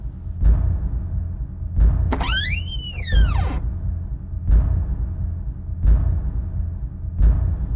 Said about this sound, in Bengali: তখনই জানালা ধাক্কানোর শব্দ হলো।